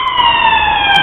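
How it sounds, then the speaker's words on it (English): Street siren wails loud and close, a steady sustained tone with strong harmonics lasting the whole second, near a road flyover and zebra crossing, with no talking. "Glare and siren hinder my search."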